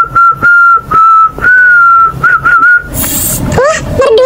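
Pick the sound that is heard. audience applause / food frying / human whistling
human whistling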